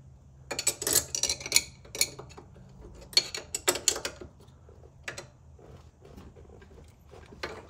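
Bolts are tightened on the suspension of a 2004 Pontiac GTO in a garage: bursts of metallic clinks and ratcheting wrench clicks, close by, with quieter pauses between.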